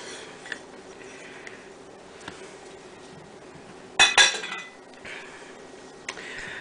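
Utensil clinks and scrapes against a bowl while two sticks of room-temperature plant-based vegan butter are mashed together, a brief loud clatter in the middle among quieter scraping.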